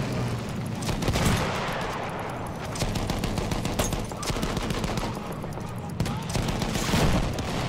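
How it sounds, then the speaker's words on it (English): Heavy gunfire in the Battlefield 1 video game, dense bursts of rifle and machine-gun fire with booming shots rolling continuously, loud and close, with a voice briefly heard over it. "we got some bigger guns shooting on us"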